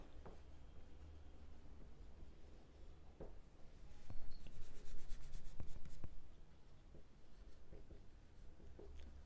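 Marker or chalk scratching across a board while an algebra set is written out, in short strokes and taps with a denser burst of scribbling midway, close and moderately loud over faint room hum.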